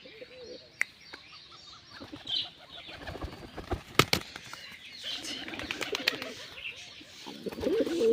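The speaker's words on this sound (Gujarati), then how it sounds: "બાકી કબૂતર આપણે હાથ ઉપર આવે એવડી છે" Pigeons coo softly at close range amid scattered chirps, wing flaps and small clicks, with no talking.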